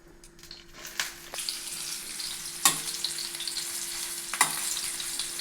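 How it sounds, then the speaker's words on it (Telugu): Boiled bitter gourd pieces fry in plain oil in a pan for a sweet kakarakaya dish. A steady close sizzle runs throughout, with a few sharp stirring clatters and no talking. "వట్టి నూనెలో వేపేద్దాం"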